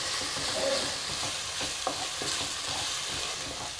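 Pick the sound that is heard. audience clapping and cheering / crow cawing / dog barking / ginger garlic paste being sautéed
ginger garlic paste being sautéed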